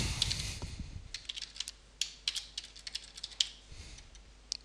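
Computer keyboard typing for a Facebook login, an uneven patter of close, crisp key clicks in short bursts with brief pauses and no voice.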